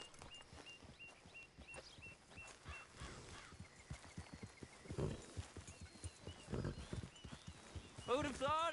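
Horse hooves clip-clopping in Red Dead Redemption 2, a steady walking rhythm running through the whole stretch alongside game music and a voice, with a brief whinny near the end.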